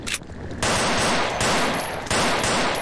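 Automatic gunfire in the horror game Afraid of Monsters, with two long, loud sustained bursts of rapid shots separated by brief pauses and no talk.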